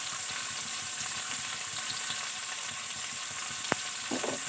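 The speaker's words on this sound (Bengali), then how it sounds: "ভাজার জন্য যেরকম তেল লাগে নিউট্রিলাটা ভাজার জন্য সেরকম তেল দিয়ে দিচ্ছি" Cooking oil sizzling in a kadai over a gas flame, heated for frying Nutrela soya chunks: a steady, close crackling hiss throughout, with a brief metallic tap near the end.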